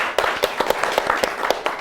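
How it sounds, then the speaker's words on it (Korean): A small audience at a Korean disability policy forum clapping, individual sharp claps standing out in a brief, loose burst of applause that stays close and fairly loud. "박수 한번 주시죠."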